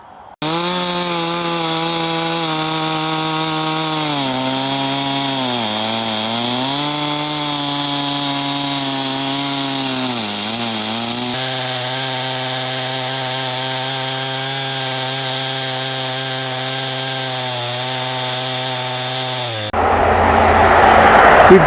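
A chainsaw cuts a thin slab off a massive log for a table build, its engine droning steadily and loud for about twenty seconds, the pitch dipping and recovering under load.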